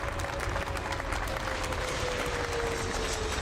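An audience at the Town of Smyrna Memorial Day ceremony claps in a steady, dense round of applause that holds at an even level throughout.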